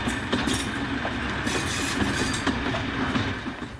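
Locomotive 45112 hauling a convoy of locomotives from the Severn Valley Railway at Kidderminster, a loud, close rumble of wheels with rhythmic clickety-clack over rail joints and a dense, continuous roar.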